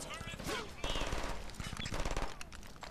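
Rapid automatic gunfire from the video game Brink, a loud, sustained burst of overlapping shots with a chaotic battle mix behind it.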